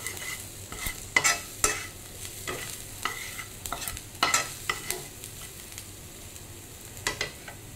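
Fried green mango is stirred and mixed in a pan with salt and turmeric, making repeated close scraping strokes at an uneven rhythm over a faint sizzle.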